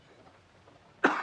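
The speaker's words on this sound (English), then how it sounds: "What a foul cough." A single harsh, loud cough bursts out near the end after a second of near silence, close to the microphone.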